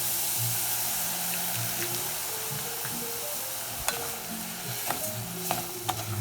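Vegetable demi-glace and verjus blanc hit a hot pan, and a strong hiss and sizzle runs throughout, with a few sharp clicks and taps near the end and no voices.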